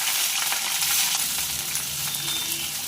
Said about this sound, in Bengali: এবার ক্যাপসিকামটা আমি তেলের মধ্যে দিয়ে দেবো।